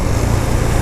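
A KTM Duke 390 motorcycle engine running loud and close on its one-touch starter, a steady, buzzy single-cylinder drone lasting under a second with no talk.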